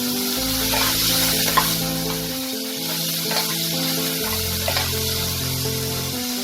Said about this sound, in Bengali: এই আলুটাকে আমি একদম স্লো ফ্লেমে ঢেকে ঢেকে ভেজে নেব।